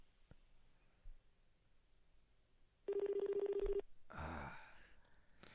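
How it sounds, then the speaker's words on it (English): Telephone dialing tones on a phone, a steady beep of about a second followed by a shorter burst, heard faintly against quiet room sound. "Yeah, but I'm calling from my phone."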